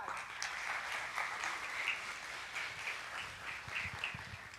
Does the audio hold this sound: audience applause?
yes